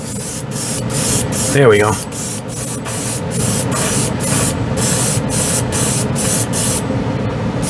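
An airbrush spraying Humbrol white scale model paint, a close hiss pulsing in rapid, regular bursts throughout, with someone speaking briefly near the start.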